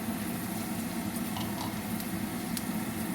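Prawn crackers, bought from a Chinese shop, deep-frying in hot oil, giving a steady, dense bubbling hiss that stays even throughout with no pauses.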